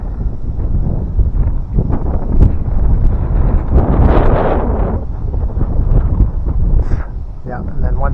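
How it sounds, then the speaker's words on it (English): Gusting fall wind roars around dead trees during tree-felling work, a steady broadband rush that swells into a stronger gust midway, with a voice talking over it. "I was just holding on for the gust there for a sec."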